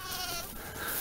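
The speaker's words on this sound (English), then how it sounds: "This is the other batch of sheep." Sheep bleat faintly inside a barn, a short soft call set against a steady wash of background noise.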